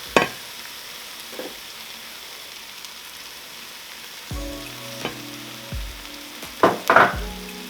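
Flour and vegetables cook in a pot for chicken fajita soup, a soft steady sizzle with occasional stirring scrapes and spoon knocks against the pot, close by and without speech.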